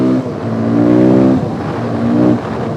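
A Husqvarna motorcycle engine pulls hard in fourth gear, a loud, steady, close-up drone that rises in pitch, dips briefly, then climbs again under acceleration.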